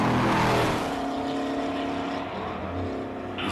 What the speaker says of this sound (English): that Porsche is sounding tremendous